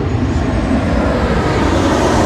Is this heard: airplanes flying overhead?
yes